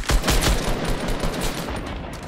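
Rapid gunshots in Fortnite crack in a quick burst at the start, then give way to a dense, noisy wash that fades slightly; no speech.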